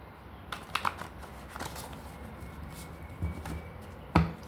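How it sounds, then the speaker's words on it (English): Self-love affirmation cards being shuffled by hand, giving a few soft, scattered riffles and taps over quiet room noise, with a couple of sharper card slaps near the end. "I'm going to shuffle some self-love affirmation cards to end this"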